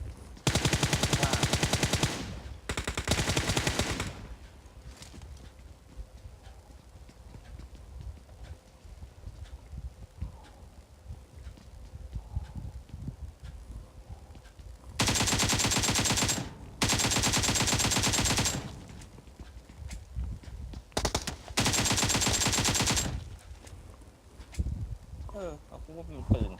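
Bursts of automatic gunfire from PUBG Mobile, loud sustained volleys in several separate clusters with quieter gaps between them.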